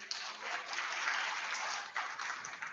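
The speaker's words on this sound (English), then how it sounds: "big round of applause" Applause from a community meeting audience welcoming a council chief executive, a steady wash of clapping from a modest crowd, fairly distant and soft, lasting a few seconds with a brief dip near the end.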